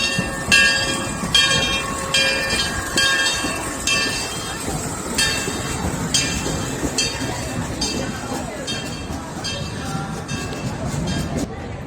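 Train at the Port Aventura amusement park rolling along with a rumbling mechanical clatter and a repeated ringing bell signal, with people talking nearby over the noise.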